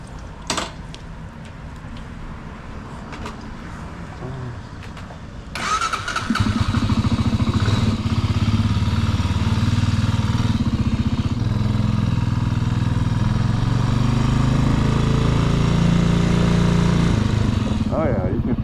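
A Halcyon 450 motorcycle engine cranks and catches, then settles into a steady, loud, close idle that runs unbroken to the end, with a few sharp clicks before the start and no speech over it.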